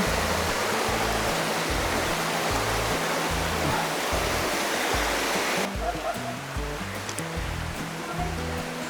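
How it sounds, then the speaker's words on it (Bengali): Tipra Khum waterfall, the first falls on the Napittachara trail, gives a loud, continuous roar of rushing water heard up close. The rush eases slightly partway through. "এই তো আমরা ঝর্ণা চলে এসেছি"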